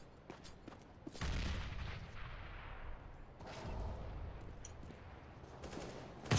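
Bursts of rapid gunfire in a competitive CS:GO match, booming reports and heavy rattling volleys separated by short lulls, no one talking.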